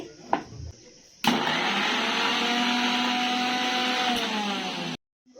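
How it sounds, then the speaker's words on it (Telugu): Mixer grinder grinding tamarind for a bitter gourd pickle: a short thump, then a steady loud whirring motor hum with a slowly falling pitch for about four seconds before stopping abruptly. "చింతపండు అయితే మనం మిక్స్ పట్టేసుకుందామండి"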